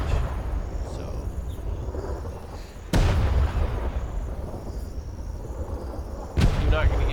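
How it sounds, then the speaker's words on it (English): A brigantine's front cannons fire in the game Atlas: two heavy, booming shots several seconds apart, each a sudden loud blast over a continuous rumbling background. "That's not a bad range right there for front cannons."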